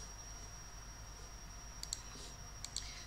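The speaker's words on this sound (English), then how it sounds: "Click the button Escape on your keyboard." Two quick pairs of sharp key clicks from a computer keyboard, the Escape key being pressed, sound faint and close over a quiet steady hum with no talk.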